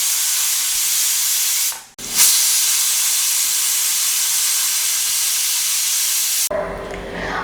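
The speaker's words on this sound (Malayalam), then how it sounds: "2 വിസിൽ വന്നു കഴിഞ്ഞപ്പോൾ ഞാൻ ഫ്ലെയിം ഓഫ് ചെയ്തിട്ട് ആവി ഫുൾ കളഞ്ഞ്" A pressure cooker making chicken biryani vents steam in a loud, continuous, close hiss that breaks off briefly once and then resumes, with no talking.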